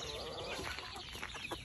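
Chickens cluck softly near the camera, a few short calls scattered through a steady, noisy outdoor background.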